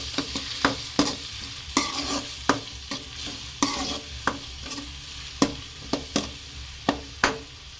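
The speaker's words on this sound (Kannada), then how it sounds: "ನಾನು ಇವಾಗ ಈರುಳ್ಳಿ ಹಾಕಿದ್ದೀನಿ. ಚೆನ್ನಾಗಿ ಮಿಕ್ಸ್ ಮಾಡೋಣ." Chopped onions frying in a pan for a rajma dish, a continuous hiss broken by regular sharp scrapes and clacks of the spatula as they are mixed, close and fairly loud.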